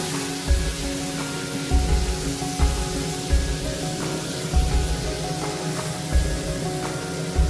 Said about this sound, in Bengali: এবার মশলাটাকে আমি একটু নাড়িয়ে দিচ্ছি।